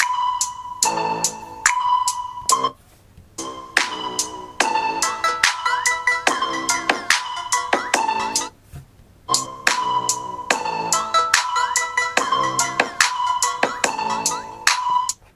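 A melodic ringtone plays loud and clear, bright tones repeating in short phrases with brief pauses between loops.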